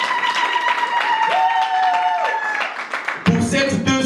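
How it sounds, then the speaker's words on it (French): Wedding guests clap at a celebration, a steady wash of applause under a sustained musical tone, then a louder burst of music and noise near the end. "on applaudit une fois de plus, ils sont à l'honneur"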